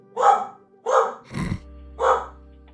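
A pet dog unsettled by nearby fireworks barks four times in a loose rhythm, each bark loud and close, with a low thud under the third.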